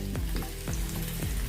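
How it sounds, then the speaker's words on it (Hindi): Okra fries in a pan with a steady close sizzle, broken by a few quick scraping strokes as it is stirred, with no voices. "अभी भिंडी हम फ्राई कर रहे हैं"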